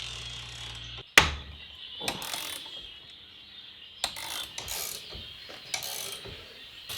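A Series 1 Land Rover engine is turned over by hand crank after a spray of WD-40, giving intermittent ratcheting, clanking and gritty mechanical scraping in bursts with pauses between, close and fairly quiet.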